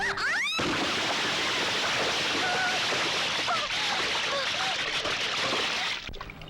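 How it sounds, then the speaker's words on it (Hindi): A person thrown into water makes a loud splash, followed by several seconds of dense, churning, rushing water. A brief voice sounds just before the splash hits. "अरे तुमने इसे उठाकर पानी में फेंक दिया"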